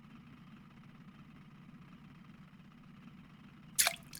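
A boat engine hums low and steady while trolling on the Seversky river in the fishing game Russian Fishing 4, faint and even, with a short splash near the end.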